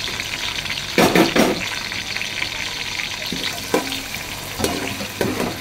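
Onions fry and sizzle in hot oil in a pot for mutton yakhni pulao, a continuous close crackling hiss punctuated by several scraping stirs of a spoon against the pot.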